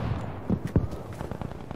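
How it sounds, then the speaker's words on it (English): Distant gunfire in the Battlefield V video game during a flag defense, a few muffled shots and thuds popping over steady low battlefield rumble. "Oh, they're shooting us."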